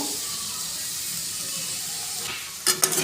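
Spice masala of turmeric, salt and vegetable seasoning sautéed in a pan, a steady close hiss of sizzling oil, then a few sharp scrapes and clatters of stirring near the end.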